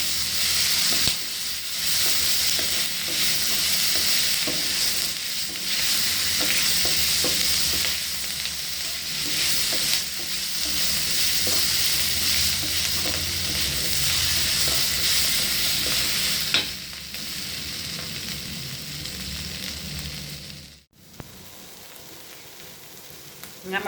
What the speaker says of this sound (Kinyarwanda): hanyuma nongere ngaragure kugira ngo umunyu